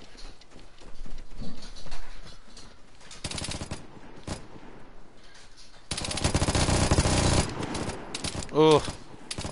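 Bursts of heavy automatic gunfire from big guns in the video game Vigor, loud rapid volleys in two main stretches with scattered shots between, plus a brief whooshing effect near the end.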